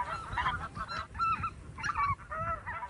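A flock of wintering migratory geese honks close by in a continuous, overlapping chorus of nasal calls, several birds calling at once with no talk.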